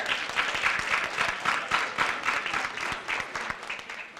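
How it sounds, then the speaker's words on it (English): Steady, moderate clapping from a parent audience at the HPU 2019 Parent Appreciation Ceremony, a continuous patter of many hands throughout. "let's give a round of applause for Burr"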